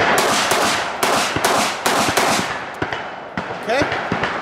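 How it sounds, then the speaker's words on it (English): Six-shot Taurus 856 revolver fired from a pocket, a string of sharp, loud reports at roughly half-second intervals with some irregular spacing, each crack ringing briefly over a noisy outdoor background. "six rounds through the revolver"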